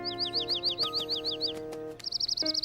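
A small bird chirps in a quick run of repeated high, downward-sliding tweets, then shifts into a faster trilling burst, close and clear over a soft musical background.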